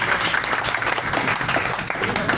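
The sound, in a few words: audience applause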